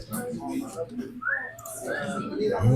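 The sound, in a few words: person whistling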